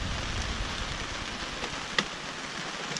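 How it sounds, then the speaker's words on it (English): Rain patters steadily on a sailboat moored in the Great Wicomico, a dense even hiss with one sharper drop striking near the end. "while it's raining out here"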